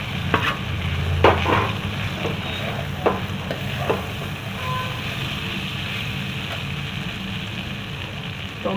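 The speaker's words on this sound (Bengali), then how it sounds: "মশলা দিয়ে এটা ভাজাটাও হয়ে গেছে। এবারে সয়াবিনটাকে দিলাম।" Soybean chunks fry with ginger-garlic paste and chillies in a pan for chola soybean masala. A steady close sizzle runs throughout, broken by sharp clicks and scrapes of stirring.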